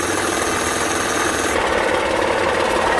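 Honda Pilot engine running with a steady broadband mechanical rasp and rub, heard close up from the engine bay with a suspected rod knock or bearing fault, no distinct separate knocks standing out.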